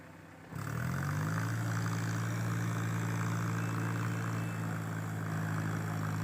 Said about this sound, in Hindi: ट्रैक्टर धंसता ही जा रहा है आगे पीछे करने पर।